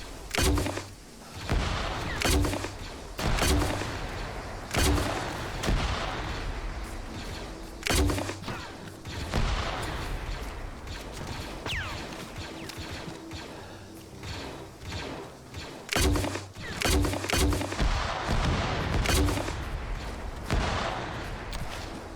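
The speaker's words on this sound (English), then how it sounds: "Thank God I still have the grenade launcher." A grenade launcher fires repeatedly in the video game Arma 3, with sharp, booming reports and explosions arriving every second or two amid continuous background battle noise.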